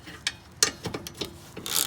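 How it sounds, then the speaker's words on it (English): Regular ratchet working a brake bolt on a 2011-2017 Honda Odyssey during a rear brake job: a series of sharp metallic clicks and short ratcheting bursts, close and uneven, ending in a quicker run of clicks. "now I can just use a regular ratchet"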